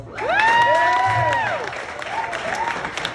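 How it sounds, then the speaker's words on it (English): A comedy show audience claps and cheers. Loud, sustained whoops and shouts rise over the scattered clapping and then fade. "clap your hands if you've got kids"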